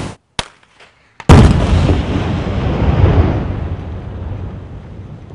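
After a couple of sharp clicks, a loud explosion bursts close by and rolls into a long, roaring rumble that sustains for several seconds.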